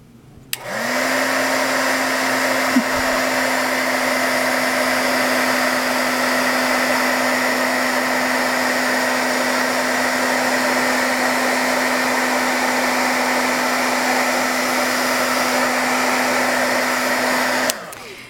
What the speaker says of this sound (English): we're just going to heat it up with our heat gun just to dry it so it doesn't smudge